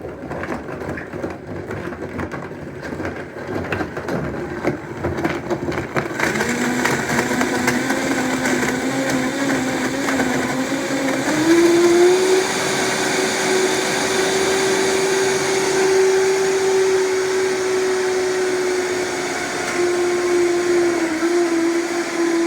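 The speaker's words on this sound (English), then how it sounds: "Okay, I'm going to turn the blender on." A blender crushes frozen mango with a loud, steady motor roar that grows stronger after a few seconds, its whine climbing in pitch as the blend smooths out. No one speaks over it.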